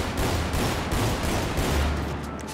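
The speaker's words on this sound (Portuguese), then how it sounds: "essas são as armas 12, escopeta. Vamos testar aqui." A 12-gauge shotgun fires in GTA 5 roleplay, loud repeated blasts in quick succession that crowd together into a dense burst of gunfire, with no talk over them.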